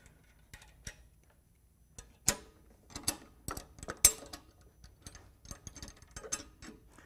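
Quick ratchet clicks and sharp metallic ticks in irregular bursts as a 12 mm nut is loosened on an engine bracket of a big-block motor, close up with no talking.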